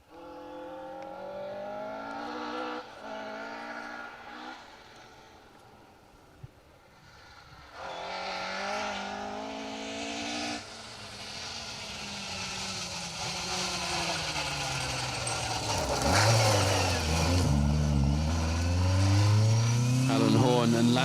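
A BTRDA rally car, likely a Mk II Escort, drives a forest stage, its mid-pitched engine revving and building in loudness toward the end, with commentary running over it throughout.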